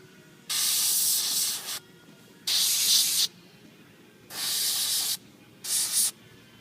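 An airbrush sprays a thin filter wash onto a Soul Grinder miniature in four distinct hissing bursts, each a second or so long, separated by near silence.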